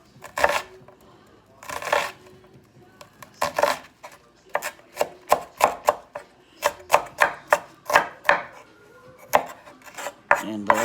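Onion chopped with a knife on a board, an irregular run of crisp thuds that quicken into a fast steady rhythm, close and distinct, with a little speech in places.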